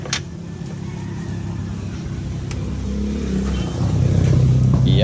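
Engine started after a throttle body cleaning, a steady close idle rumble that builds as it revs up, growing louder toward the end.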